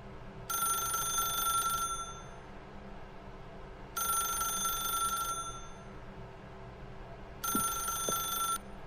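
A telephone rings inside the video game The Stanley Parable, three bursts of an electronic ring separated by pauses, over a low steady hum of background ambience.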